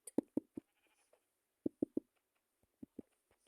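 Sheep in the Minecraft video game bleat in short clustered calls, two quick groups of three followed by scattered single bleats, clear against near silence.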